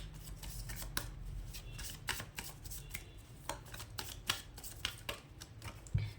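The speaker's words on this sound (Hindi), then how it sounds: "गाइस यहाँ पे शफल हो रहा है" Tarot cards being shuffled by hand: a fast run of crisp, papery riffles and taps close up, with a faint low hum underneath and no voices.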